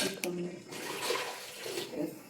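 Water poured into a pot while soybean pulao cooks, a steady close rushing splash lasting a couple of seconds, with faint voices underneath.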